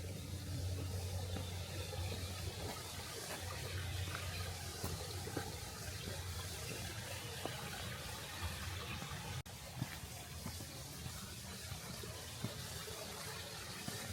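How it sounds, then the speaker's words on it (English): Steady bubbling and trickling water from a brook in Kyoto, continuous and fairly close, with no voices. "Bubbling brooks"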